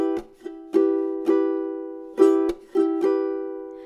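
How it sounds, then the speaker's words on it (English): Close acoustic guitar strumming on muted strings, with a string of percussive strokes between sustained chords in an even rhythm, played alone without any voices. "And then mute would sound like this."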